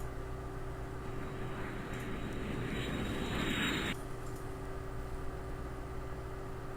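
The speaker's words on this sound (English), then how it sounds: "Is a plane gonna land on him?" A cartoon airplane engine drones overhead, a faint steady hum with a brighter whooshing swell that builds and then cuts off abruptly.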